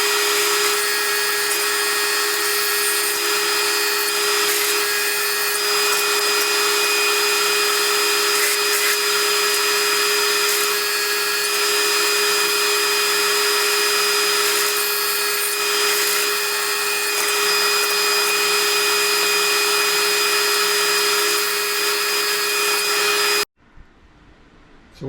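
A thickness planer feeds wooden sticks through with a loud, constant high-pitched motor whine and cutting roar, running steadily for over twenty seconds before cutting off suddenly.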